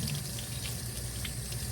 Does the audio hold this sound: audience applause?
no